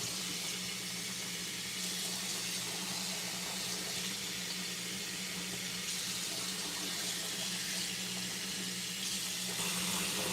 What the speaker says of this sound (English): I'm gonna just rinse out the sink first